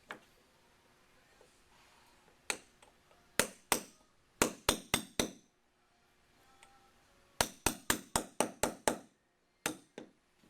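A small roll pin is driven out of a Winchester Model 94 .30-30 rifle with a series of sharp, close metallic taps in uneven bursts, separated by quiet pauses.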